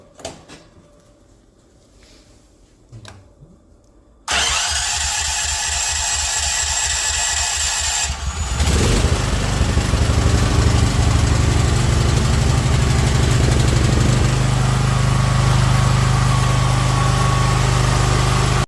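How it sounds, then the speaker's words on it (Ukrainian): A Hyundai PT3900 ATS petrol generator auto-starts. After a quiet stretch, a sudden loud engine sound kicks in and settles into a steady close running drone that grows fuller partway through and keeps going evenly. "Зараз запустимо і покажу, як сюди він запускається у нас автозапуску."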